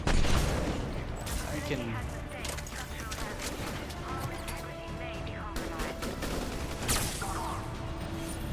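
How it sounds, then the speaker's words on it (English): Rapid turret gunfire in the video game Mass Effect 3: dense bursts of shots and impacts throughout, with a player talking over the battle. "There are the turrets!"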